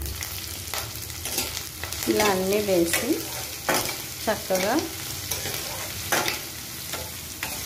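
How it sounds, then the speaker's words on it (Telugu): Tempering spices and garlic crackle in hot oil for a spinach dal, with a steady sizzle broken by spatula scrapes and stirring clatter. A few words are spoken over the frying. "అది కొంచెం చిటపటలాడినప్పుడు మిగతా పోపు దినుసులు కూడా వేసేయాలి"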